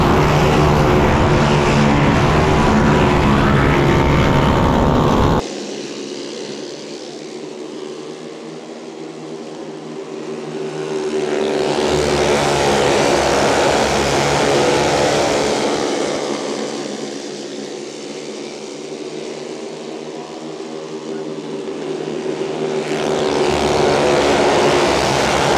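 FlatHead limited modified race cars lapping Triple T Raceway during warmup, engines swelling loud as the pack passes close, fading to a steady distant drone, then roaring back again.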